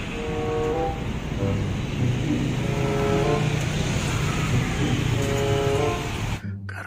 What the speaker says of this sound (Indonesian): Wah, mobil bus Transjakarta.